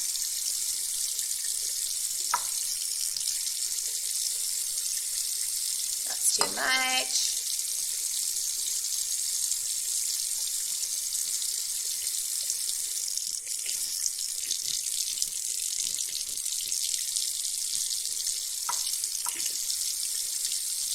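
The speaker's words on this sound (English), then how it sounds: "Get a little bit more water in there." Water pours briefly into a graduated cylinder against a quiet hiss, followed by a short spoken remark and a few faint clinks.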